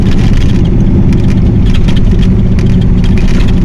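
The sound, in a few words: C3 Corvette engine running while backing out of garage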